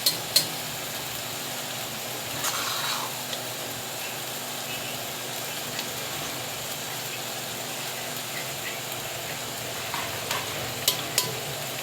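Karela gosht, bitter gourd cooked with meat, fries and is stirred in a pot, a steady close sizzle with scraping spoon strokes and occasional clinks, continuous throughout with no voices.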